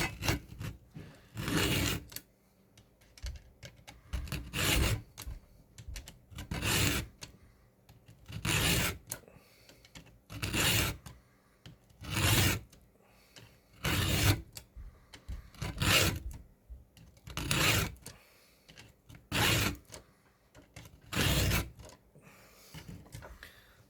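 A chainsaw chain's teeth are filed one after another with a new sharpening tool, about a dozen regular rasping strokes of roughly a second each, separated by short pauses, close and loud with no talk.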